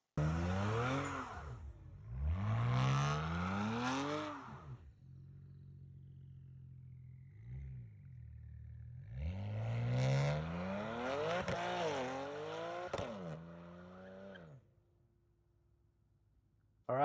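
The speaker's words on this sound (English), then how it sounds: "I had to do a burnout" A BMW N54-powered car with a custom tune and 19T turbos does a burnout, its engine revving hard in two long loud bursts with sweeping pitch, separated by a quieter idle, with screeching tire noise over the revs.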